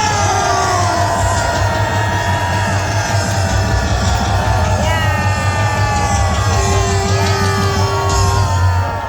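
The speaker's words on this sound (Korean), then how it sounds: "정강훈 대통령 후보님을 기립박수로 모시겠습니다" A large crowd at a Korean political rally roars with yells and whoops as a presidential candidate is welcomed with a standing ovation, loud and sustained, with amplified talk and music underneath.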